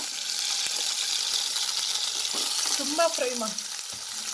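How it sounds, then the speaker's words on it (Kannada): Long-sliced onions hit hot oil in a pan and fry with a steady, close, broadband sizzle that runs throughout, with a few brief clinks of a utensil near the end. "ಈಗ ಎಣ್ಣೆ ಬಿಸಿ ಆಗಿದೆ. ಆನಿಯನ್ ಹಾಕ್ತಾಯಿದ್ದೀನಿ, ಈರುಳ್ಳಿ ಲಾಂಗ್ ಸ್ಲೈಸ್ ಮಾಡ್ಕೊಂಡಿದ್ದೀನಿ."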